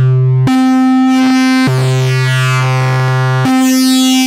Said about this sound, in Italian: sentire soltanto con la triangolare buttata nel brutalizzatore